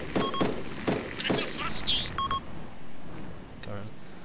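Gunfire in the ARMA 2 zombie map, several sharp blind shots cracking in a loose burst near the start, mixed with electronic beeps and players talking over the action.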